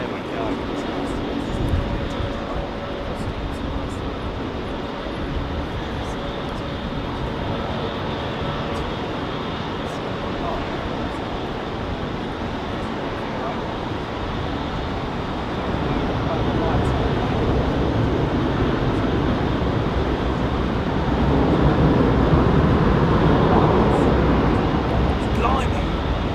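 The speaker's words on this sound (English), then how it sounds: "Gurgling set of IAEs there, man." Airliner with IAE engines at Heathrow, a long steady jet roar with a gurgling texture that swells louder toward the end, heard from a distance.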